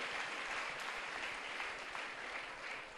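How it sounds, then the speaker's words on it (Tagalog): A church congregation applauds for the Lord in a sustained, even wash of clapping, fairly faint and distant, with no talking over it. "Sa pahumuling malakas sa palakpak sa Panginoon na dakila."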